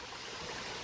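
Water from a small waterfall spills off rocks on a hike, a steady broadband rush with no voices, close and continuous throughout.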